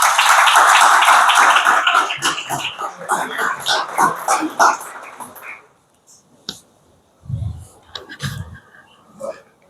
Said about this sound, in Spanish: os pido un aplauso para él, por favor